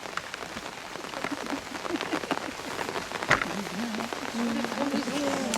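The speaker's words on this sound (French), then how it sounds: "la pluie tombe" Steady rain falls outdoors on a farm estate near trees, a bench and a château, a dense continuous patter with a brief louder knock midway, while a person talks over it.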